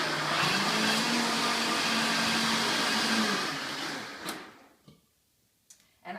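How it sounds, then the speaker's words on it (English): A kitchen blender whirs loudly and steadily as it blends papaya with a freshly cut aloe vera leaf for a smoothie, then stops abruptly, followed by a few faint clicks and knocks. "I'm going to blend it really quickly again"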